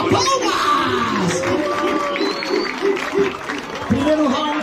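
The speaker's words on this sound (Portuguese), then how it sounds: "Palmas, família, palmas!" Crowd at a Brazilian rap battle clapping along, with rhythmic claps under loud shouting and cheering voices throughout, fairly close and energetic.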